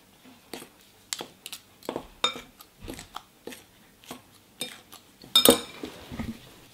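Two metal forks clink and scrape against a bowl while mixing dough into crumbs for an ube egg pie crust, a run of sharp irregular taps and scrapes with short gaps, close and alone.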